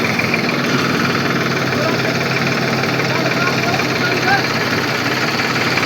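A tractor engine runs steadily while pulling a cutter, a loud, close, even mechanical drone with a faint knocking pulse that never lets up.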